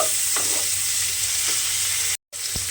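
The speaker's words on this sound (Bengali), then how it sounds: "ক্যাপসিকাম আর টমেটোটা দিয়ে তেলের মধ্যে আমি একটু নাড়াচাড়া করে রান্না করে নেব।" Capsicum and tomato sizzle loudly in hot oil while being stirred, with soft scraping sounds and a brief moment of silence near the end.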